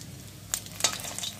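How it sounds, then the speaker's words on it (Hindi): Boiled eggs frying in a pan for an egg curry, giving a soft, steady sizzle with a couple of sharper spatter pops over a short stretch, and no voices. "उसके बाद मैं इसको फ्राई कर रही हूँ"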